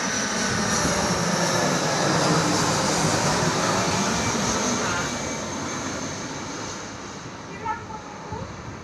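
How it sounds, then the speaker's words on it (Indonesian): Airplane engine roaring steadily overhead outdoors, a broad continuous drone that slowly fades in the second half. "lihat itu ada pesawat."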